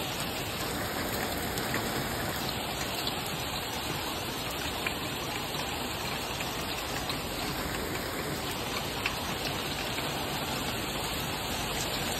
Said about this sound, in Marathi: पहा मंडळी किती जोरानं पाणी आलं अमरावतीत